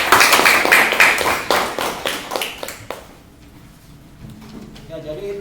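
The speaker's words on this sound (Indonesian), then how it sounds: "Tepuk tangan untuk Dali." A classroom of students claps for a presenter at a junior high school, a burst of loose, uneven claps lasting about three seconds before dying away into quiet room noise and a faint voice.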